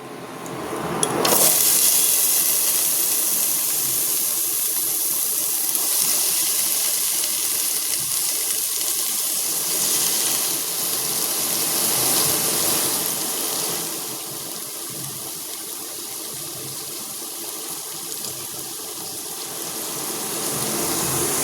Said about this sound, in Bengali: তো চলো কড়াইতে এই যে তেলটা গরম হয়ে এসেছে, আমি এগুলো দিয়ে দেবো।